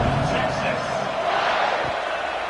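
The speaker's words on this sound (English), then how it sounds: "boy, did that last drive quiet this crowd" Stadium crowd noise in a college football video game simulation of New Mexico State versus Texas, a steady loud murmur of spectators with speech over it.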